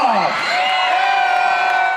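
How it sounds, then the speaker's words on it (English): A crowd at a Fort Lee community holiday event lets out a loud swell of cheering and whooping that holds steady for a couple of seconds, voices layered over one another. "We need a huge Fort Lee round of applause for Stephanie"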